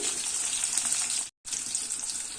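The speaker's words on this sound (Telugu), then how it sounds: "చూసారా పచ్చిమిరపకాయలు అయితే ఫ్రై అవుతున్నాయి" Green chillies fry in a pan with a steady, bright sizzle that runs loud and even throughout, broken by one very brief silence partway through.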